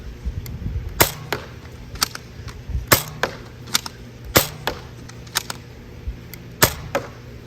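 A Nerf Elite 2.0 Volt blaster fires foam darts at a taped fence target outdoors, giving a string of sharp, irregular clicks and snaps, some louder and close, others softer, without talk.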